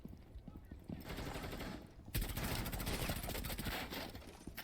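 Rapid automatic fire from Buck's gun in a video game, a sustained rattling burst that kicks in loudly halfway through and keeps hammering steadily to the end, with no talking.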